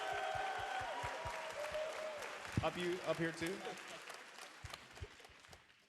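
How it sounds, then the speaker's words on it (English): An audience applauds at a Nintendo E3 2019 tournament: steady rhythmic clapping fills the room while a presenter speaks over it, and the applause swells toward the end. "Applaud yourselves."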